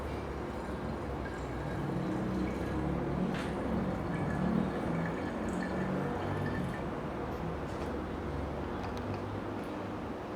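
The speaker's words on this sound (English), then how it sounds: "you just pour the coffee in" Cooled coffee from a French press, about 300 ml, poured in a steady, continuous stream with no break or talking.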